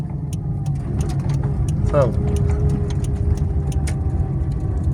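Car engine revving as a learner driver presses the accelerator during a driving lesson, a steady, fairly loud engine drone with an instructor speaking briefly over it.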